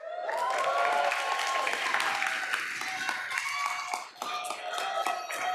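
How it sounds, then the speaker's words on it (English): Sustained applause from an audience at a community college board of trustees meeting honoring a student leadership award recipient, dense clapping throughout with a brief dip near the end. "We have an applause and ovation coming for you, April."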